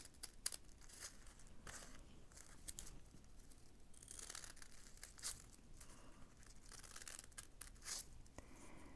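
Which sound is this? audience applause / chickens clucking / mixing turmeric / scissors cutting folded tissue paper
scissors cutting folded tissue paper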